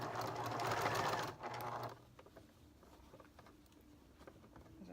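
A home sewing machine stitches fabric for kids' reversible pants, the fabric bunching, with a fast loud whirring run for about two seconds before it stops, leaving faint clicks and rustling.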